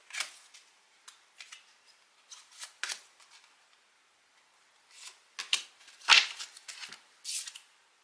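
Oracle cards shuffled and drawn, crisp papery flicks and snaps in scattered bursts separated by near-silent pauses, close and light, with one sharper slap near the end.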